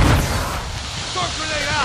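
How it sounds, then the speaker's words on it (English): A mortar strike in Call of Duty: Modern Warfare 2 brings a heavy, booming blast with rumbling low-end debris, followed by lighter crackling and distant battle noise in a short burst. "Hostile mortar strike incoming."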